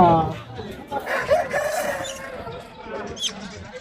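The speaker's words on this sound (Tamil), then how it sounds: "அருமையான கிளிமூக்கு சேவல் கொண்டு வந்திருக்காங்க" A rooster crows nearby, a rough drawn-out call over a busy background of people talking and other birds at a livestock market in Kundarapalli.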